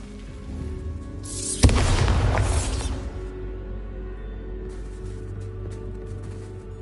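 The Bombarda blasting spell from the video game Hogwarts Legacy: one sudden loud explosive burst with a crackling, shattering tail that fades over about a second, followed by quieter ambient game sound.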